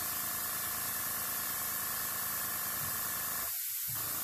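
An airbrush fitted with a second moisture trap sprays a steady, loud hiss of air that continues without pause, broken only by one brief dip in the low end near the close, with no voices.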